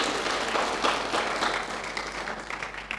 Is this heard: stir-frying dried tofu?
no